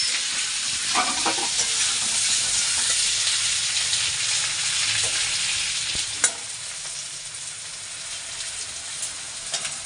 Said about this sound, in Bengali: এখানে দেখো মশলা ভিজিয়ে রেখেছি আর পেঁয়াজ টমেটো সবার মধ্যে দিয়ে একটু ভেজে নিচ্ছি